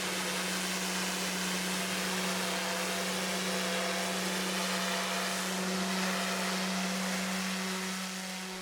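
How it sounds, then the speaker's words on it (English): An industrial pressure washer at a shipyard blasts continuously, a loud, dense hiss over a steady tonal hum that eases slightly near the end. "The pressure washer used here in the shipyard is also quite different from the little household-style Kerchers most people know"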